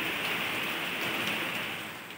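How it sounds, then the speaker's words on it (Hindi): Heavy downpour of large raindrops, a dense, steady hiss that stays loud and even throughout with no voices. "মুষলধারে বৃষ্টি নেমেছে বৃষ্টির কণাগুলো বড় বড় একেবারে"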